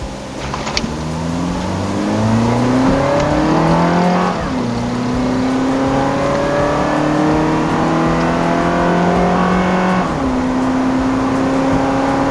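A Honda Jazz GE8 fitted with an aftermarket racing air filter accelerates hard from 0 to 100 km/h, its engine climbing in rising revving sweeps with gear changes near four and ten seconds, loud and close, without talk.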